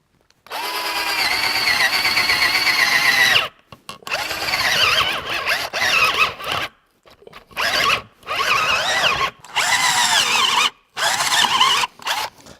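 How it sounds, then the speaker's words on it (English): A cheap 18-volt cordless drill fitted with a 1-inch paddle bit whines and strains in repeated short bursts, loud and close, with harsh grinding squeals and brief silences between each trigger pull. "we'll put the 1-inch paddle bit in. Oh, that is not a nice sound inside of that drill"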